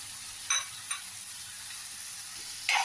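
Sponge gourd frying in a pan for fish curry, a steady soft sizzle broken by a few brief bright spatters and a louder burst at the end, close and quiet.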